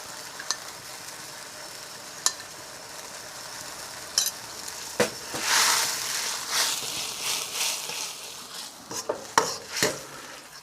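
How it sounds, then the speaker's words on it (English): A corn and potato starch slurry is stirred into a reduced sauce for crispy chilli beef, with sizzling in the pan, scraping swirls and a few sharp utensil clinks against the pan. "We're just going to slightly thicken it with a little bit of corn, potato starch slurry."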